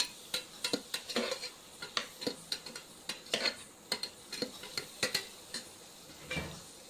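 Spinach stirred in a pan, with repeated scraping and tapping of a utensil against metal under a soft sizzle, in an irregular rhythm.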